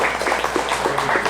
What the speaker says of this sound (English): Give him a big hand.